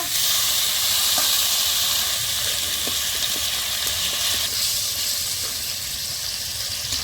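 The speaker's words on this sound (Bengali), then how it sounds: "পেঁয়াজ রসুন আমি হালকা করে ভেজে নিব।" A ground onion and garlic paste fries lightly in oil for a Nepali-style katla fish curry with taro, giving a continuous soft sizzling hiss with faint steam, steady and close, with no voices.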